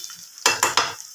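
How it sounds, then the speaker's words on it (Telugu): Prawns for prawn pickle fry in oil, and three quick loud scraping strokes of stirring cut through a faint sizzle close by. "ఇలా ఫ్రై చేసుకోండి"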